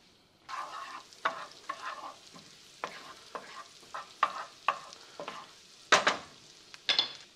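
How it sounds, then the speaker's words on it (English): Shallots sweat in melted butter and olive oil in a pan, a soft sizzle under repeated close scraping strokes of a spoon, irregular stirs with a few sharper clacks near the end. "We're gonna add our shallots, let them sweat down."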